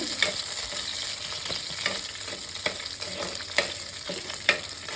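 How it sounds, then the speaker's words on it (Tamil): Green chilli and ginger frying in hot oil for a Tirunelveli sodhi, a continuous bright sizzle with periodic stirring scrapes and taps, close and fairly loud, no talking. "பாருங்கள், இதை எண்ணெயில் போட்டுக்கலாம்."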